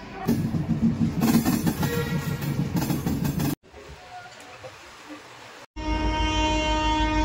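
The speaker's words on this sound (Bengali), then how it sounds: "আমাদের ট্রেন দেখো ছেড়ে দিল হাওড়া রেলওয়ে স্টেশন থেকে" A train departing Howrah railway station: rumbling with clatter and a brief horn blast, followed by a quieter stretch and then a long sustained horn-like tone, with some voices.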